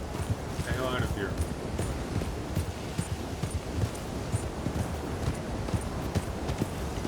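Horse hooves clip-clopping in Red Dead Redemption 2 during a storm, a steady close rhythm of hoofbeats over wind and rustling, with someone talking over it.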